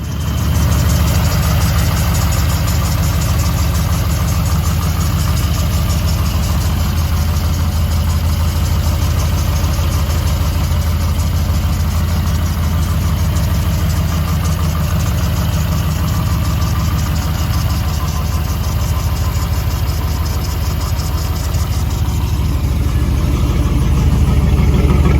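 A 1984 Jeep Renegade CJ7 engine idles steadily and loudly for the whole stretch, a low rumbling drone with no voices.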